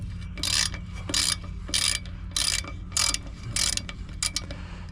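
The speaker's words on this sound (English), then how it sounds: "So get your 1/2-inch wrench on there, ratchet wrench," A half-inch ratchet wrench working on brake bolts of a 1989 Ford Econoline drum brake: bursts of rapid metallic ratcheting clicks in a steady back-and-forth rhythm, close and clear, with short pauses between strokes.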